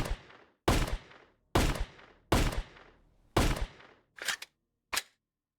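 Six sharp gunshots in VRChat fire one after another at uneven intervals, each a loud crack with a short decaying tail, the last two shorter and thinner.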